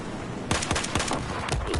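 A DMR rifle in Battlefield 4 fires a fast series of loud, sharp shots close by, roughly eight cracks in under two seconds with no talking.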